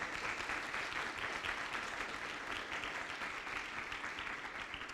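A church congregation at a communion service breaks into sustained applause, dense overlapping clapping at a steady moderate level throughout, with faint voices mixed underneath.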